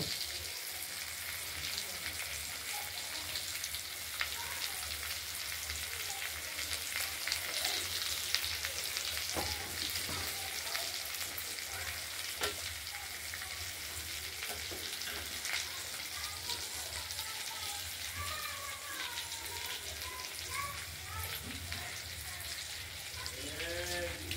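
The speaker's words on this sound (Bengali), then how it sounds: "পেঁয়াজগুলোকে আমরা খুব ভালো করে ভাজা করে নেব।" Chopped onions fry in a pan for an egg curry, giving a steady, dense sizzle that holds evenly throughout with occasional stirring scrapes and faint animal bleats in the background.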